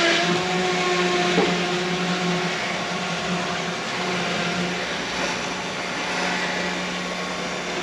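An air pump runs with a steady mechanical drone, inflating a flat tire on a 1957 Chevy Bel Air Convertible, continuous and close with no talk.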